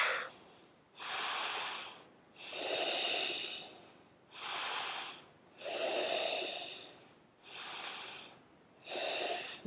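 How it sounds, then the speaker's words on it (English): Slow, deep yogic breaths drawn in and pushed out close to the microphone, six or seven rhythmic airy inhales and exhales with short pauses between, no talking. "One more deep breath."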